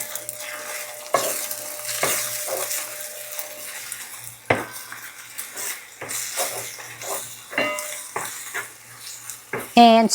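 Beaten egg stirred in a hot oiled pan for shrimp fried rice, a steady sizzle broken by repeated scraping and clinking of a utensil against the pan, close and fairly quiet.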